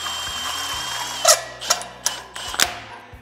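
A power tool threads parts into an OBS Ford Dana 60 heavy-duty steering kit, with several short whirring ratchet-like bursts over a low hum, close by and without speech.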